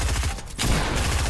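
Rapid bursts of gunfire from a Fortnite match crackle loudly and close, with a brief gap before another dense volley.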